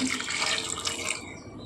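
Water pouring steadily into a pot of large cut potato pieces for boiling, a continuous splashing rush close by that cuts off near the end, with no talk.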